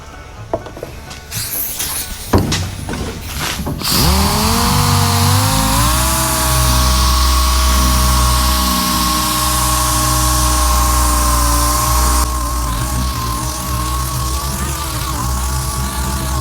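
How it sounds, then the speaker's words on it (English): A machine sander runs steadily on the body of a 1957 Chevy Gasser, with a loud continuous whirring drone after a few scraping starts, close and alone. "Just going to run over this with the Comet and the machine sander."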